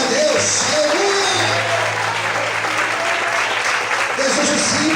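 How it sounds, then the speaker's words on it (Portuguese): A church congregation claps during a sermon, a dense and steady burst of applause filling the room, with voices calling out and a sustained tone humming beneath the clapping. "Cadê as palmas?"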